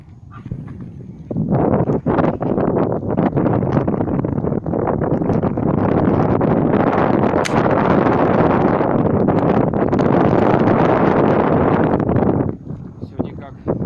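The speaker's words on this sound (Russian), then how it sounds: "сегодня дует ветер" Strong wind buffets the microphone at an outdoor 35-metre air-rifle shooting range, a loud, continuous low roar with gusty fluctuations lasting over ten seconds before easing near the end.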